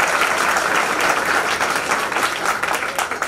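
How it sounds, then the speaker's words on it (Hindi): Loud, dense applause from a seminar audience fills the room steadily throughout, a continuous wash of clapping with no talk over it. "एक बार जोरदार ताली सर के लिए"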